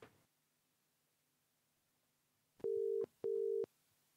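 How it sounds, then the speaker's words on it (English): After a few seconds of near silence, a telephone call rings on the line: two long, steady ringback tones, each separated by a short pause. "I literally typed my number in, and then it started ringing"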